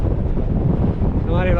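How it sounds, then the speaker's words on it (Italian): Strong wind buffeting a microphone while cycling on a gravel route in Sicily, a loud, continuous low roar with gusty surges, and a voice briefly rising over it near the end. "vento"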